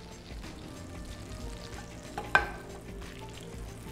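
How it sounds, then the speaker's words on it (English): Mushrooms sizzle and fry in a hot pan, a soft, steady crackle with a single sharp clink or stir just past the middle. "So when we add in our mushrooms, they have a nice kind of sizzle to them."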